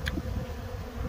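A colony of native Korean honeybees gone queenless, with laying workers, gives off a steady, faint, close buzzing hum throughout.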